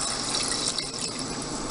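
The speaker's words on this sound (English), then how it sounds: "I add water, and I use distilled water." Distilled water pours into a soup pot over browned ingredients, a steady, full gushing rush that stays constant and close throughout, with no voices.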